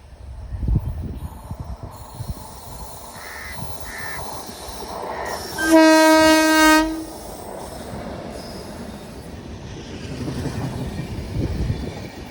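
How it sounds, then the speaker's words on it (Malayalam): Shalimar–Thiruvananthapuram Superfast train passing near a railway station on a rainy, foggy morning, sounding a loud horn blast for about a second over steady rumble of rolling wagons, with crows cawing nearby. "ഷാലിമാർ തിരുവനന്തപുരം സൂപ്പർ ഫാസ്റ്റ് ആണ് കേട്ടോ പോണത്"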